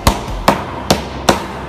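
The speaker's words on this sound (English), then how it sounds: "let's see what happens when we smash them with a hammer." A hammer strikes pennies four times in a steady rhythm, each blow a sharp, loud metallic crack on a hard surface with brief ringing in between.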